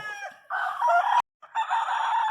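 A White Kelso gamefowl rooster crows twice nearby, a long strained call, a brief sharp click and pause, then a second full crow.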